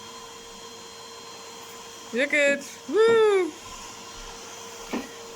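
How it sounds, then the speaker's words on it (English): A Hoover vacuum cleaner runs indoors during household chores, a steady tonal hum that continues throughout under brief voices and an excited whoop. "She's fighting with a hoover."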